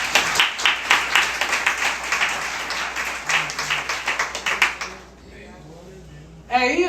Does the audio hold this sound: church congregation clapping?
yes